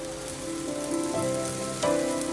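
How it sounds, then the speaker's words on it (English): Chilla batter on a tawa sizzling and frying in a little oil over low to medium flame, a continuous soft crackle with steady hiss and a slight swell near the end. "Dropping in little bit of oil."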